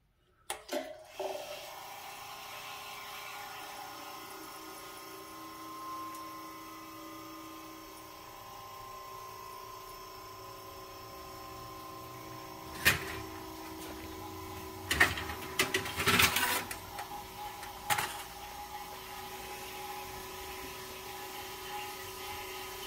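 A GE Monitor Top refrigerator switches on at a medium setting and settles into a steady low mechanical hum, with a few louder clicks and knocks about halfway through, heard alone.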